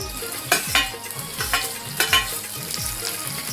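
Onion frying in oil on a hot tawa, a steady close sizzle with rhythmic spatula scrapes and a few sharper knocks against the pan.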